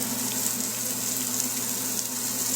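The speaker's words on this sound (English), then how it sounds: "I just seared it while they're getting that nice browning effect" Hamburger patties searing in a hot pan give a steady, even sizzle with a low background hum, continuous and unbroken, with no voices.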